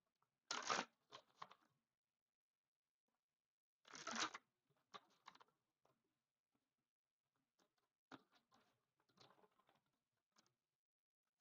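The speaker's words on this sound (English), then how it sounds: "let me shuffle a bit more here" Tarot cards are shuffled by hand in quiet, close-up bursts of riffling and patter, with soft card taps between them during a Thanksgiving reading.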